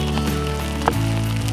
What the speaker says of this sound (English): starts pouring rain in the high desert